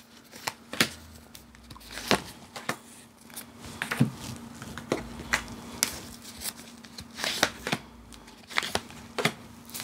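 Advice cards for a reading are shuffled in a quiet room, giving a steady run of close, crisp riffles and slaps repeating every second or so for about ten seconds, with no talking.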